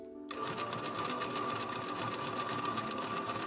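A post-bed industrial sewing machine runs at steady speed, a continuous mechanical whir with a rapid rhythmic clatter and a fixed hum, starting abruptly and holding close and even throughout.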